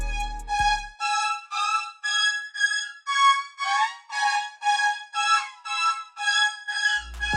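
Main synth pitched up two octaves with halftime and added effects, forming a siren-like line in a futuristic trap beat: a steady run of bright, chopped high tones in even pulses, with a short low hit at the start and end and no voice.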